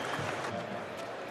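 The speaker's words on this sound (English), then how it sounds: "a nice round of applause for the pitcher" Ballpark crowd applauding for the New York Yankees starting pitcher at a Red Sox versus Yankees spring game, a soft, distant, steady patter of clapping.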